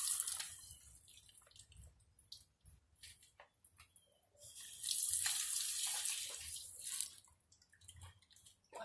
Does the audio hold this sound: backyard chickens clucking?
no